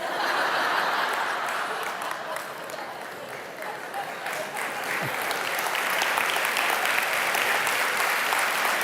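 An audience at a talk on education breaks into sustained applause, dense clapping holding steady for several seconds, with a few chuckles and murmurs mixed in.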